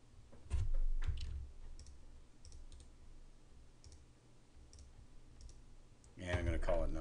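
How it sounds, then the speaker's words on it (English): A computer mouse clicking at a desk, a handful of soft separate clicks spread out over quiet room tone, with a person talking near the end. "So I'm just going to right click on here"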